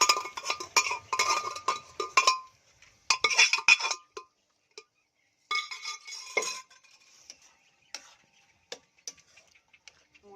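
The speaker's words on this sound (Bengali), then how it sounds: "মটরটা দিয়ে দিচ্ছি সিদ্ধ করা।" Boiled peas go into a pot of goat fat and are stirred, a metal spoon clinking and scraping in quick close bursts for a few seconds, then thinning out to scattered light ticks and taps.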